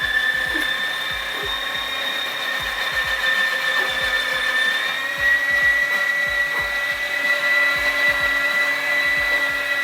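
A Liberton LMG-20TG02S electric meat grinder runs steadily while processing potatoes, giving a continuous whirring motor whine with a fast rhythmic ticking pulse underneath, close and fairly loud throughout.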